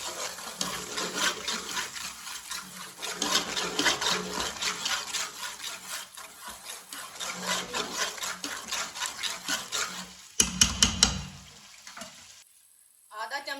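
Chopped mint and green chillies are mixed by hand for chicken biryani, giving repeated close rubbing and scraping strokes in an uneven rhythm, then a brief louder clatter before the sound drops away near the end.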